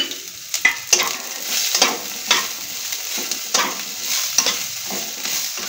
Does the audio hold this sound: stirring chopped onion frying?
yes